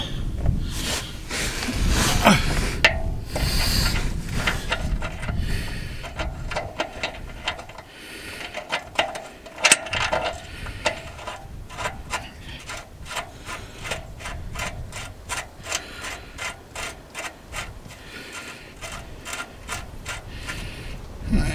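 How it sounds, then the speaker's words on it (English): Nut being tightened on caravan suspension, with repeated ratcheting clicks in steady rhythm and some metallic rubbing and clunks, close and fairly quiet. "To get a nut started on the back and then tighten it up."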